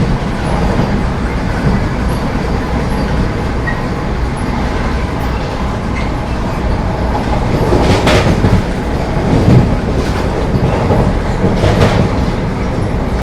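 A Vande Bharat Express runs close beside the Punjab Mail as it overtakes it near Mathura. There is a steady loud rumble of wheels and carriages with clickety-clack rhythm and brief sharper rail screeches.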